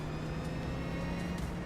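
A NASCAR race car engine in a racing video game at Martinsville, a steady, droning roar held at an even level with a faint tonal whine and no talk.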